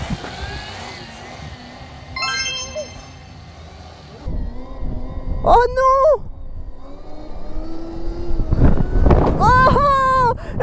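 A Kawasaki motorcycle revs in sharp rising bursts while lifting its front wheel, the engine climbing and falling several times near the microphone amid wind noise, with excited talk over it.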